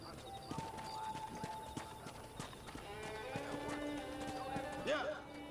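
Steady clip-clop of horse hooves at a trotting rhythm, with a brief whinny near the end, under a busy soundtrack in Red Dead Redemption.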